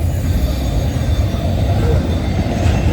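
A CN freight train passes at night, close and loud, with a deep, steady rumble of wagons rolling by and a thin squeal of wheels on the rails running through it.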